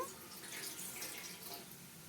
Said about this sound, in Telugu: ఇప్పుడైతే దీని మీద వాటర్ పోస్తాను